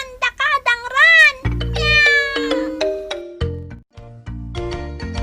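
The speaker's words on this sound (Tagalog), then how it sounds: "Meow!" A household cat meows loudly and repeatedly, several drawn-out rising and falling cries close up, followed by tonal chime-like notes.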